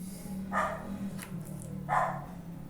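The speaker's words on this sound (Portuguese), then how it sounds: "A minha cachorra tá latindo." A dog barks twice indoors, short sharp yaps about a second and a half apart, moderately loud against a quiet room background.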